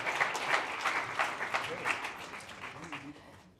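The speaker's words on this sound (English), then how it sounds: "A round of applause for Chris and Peter." Sustained applause from a conference audience on transport, dense steady clapping from many hands throughout, fairly close and even in loudness.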